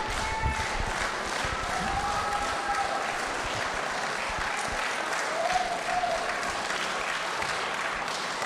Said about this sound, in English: The crowd rallying behind New Zealand Dream there, just willing him on to make the pinfall and end this brutality.